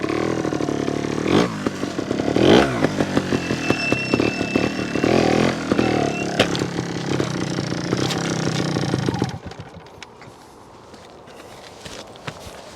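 A Honda Montesa 315R trials motorcycle engine idles and revs close by with a rough, pulsing chug, then cuts out, leaving quieter background noise.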